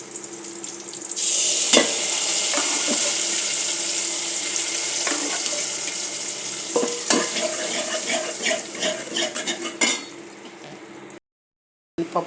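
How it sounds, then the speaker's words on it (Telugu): Boiled lentils tipped into a hot tempering for mango dal, a steady sizzle with a spoon stirring and clinking against the pan, close and fairly loud for about ten seconds before cutting off. "ఇందులో ఉడకబెట్టిన పప్పు ఇందులో వేసేద్దాం"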